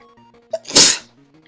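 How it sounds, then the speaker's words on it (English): A single close, loud sneeze with a short sharp intake followed by an explosive burst, heard over quiet electronic music from a retro video game. "I'm gonna sneeze."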